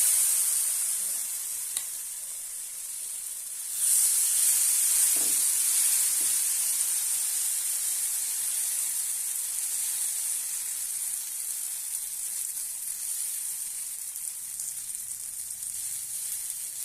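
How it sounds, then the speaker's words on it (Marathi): Bajra and methi thalipeeth batter hits an oiled griddle and sizzles in a steady, bright hiss that swells noticeably partway through and then holds at an even level with no voices. "आता आपण तव्यावर हे मिश्रण घालून घेऊया"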